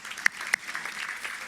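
Church congregation applauding, light scattered clapping with a couple of sharper claps standing out near the start, fairly close and brief.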